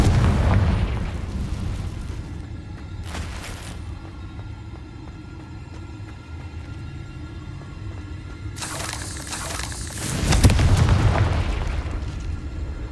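Confringo fire spells burst in Hogwarts Legacy, with deep booming explosions at the start and near the end over a continuous low rumble and a couple of sharper cracks in between.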